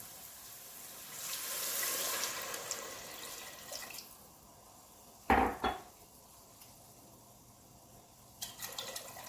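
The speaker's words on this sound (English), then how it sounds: "now we're going to add 3 cups of water" Three cups of water poured into a cooking pot for pork meatball and mushroom ramen, a soft running pour followed by a sharp clunk of the pot or vessel and a few faint knocks.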